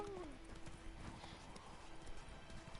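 Horse hooves clip-clop in a quick, steady trot through The Witcher video game, close and fairly soft, over a dense bed of game ambience with a brief tonal sound near the start.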